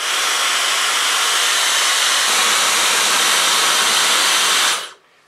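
A Dyson Supersonic hair dryer blows at maximum heat in one steady, loud, close rushing hiss for about five seconds before shutting off abruptly.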